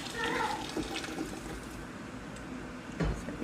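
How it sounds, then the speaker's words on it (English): Hot water is poured from a glass canning jar back into a canner, a close, brief splashing pour amid kitchen noise. "Dump the water out right back into the canner."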